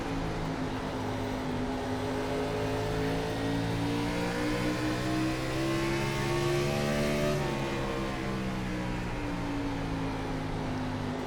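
Gen 4 stock car engine at Richmond in iRacing, a loud steady drone under light throttle, its pitch slowly rising then dipping briefly before settling, continuous and close with no voices.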